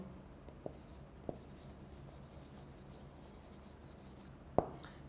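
Writing on a board during an English lecture: faint, soft scratching strokes over low room hum, with a few light taps and one sharper knock near the end.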